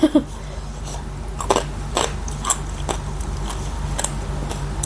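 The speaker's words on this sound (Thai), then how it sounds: "เคี้ยวในกรอบก็ปั๊บเลย เห็นไหมหนูเคี้ยว" Crunchy fermented rice-field crab eaten with spicy papaya salad gives a series of close, crisp bites and chews, each a sharp crackle roughly half a second apart.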